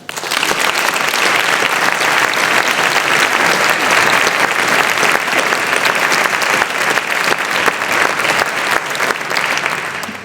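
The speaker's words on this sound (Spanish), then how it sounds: "para ellos os pedimos un fuerte aplauso" Loud, sustained audience applause fills a concert hall before an orchestral performance of Prokofiev's Peter and the Wolf, a dense steady wash of clapping that holds for about ten seconds before easing slightly at the end.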